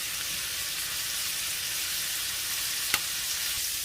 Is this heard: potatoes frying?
yes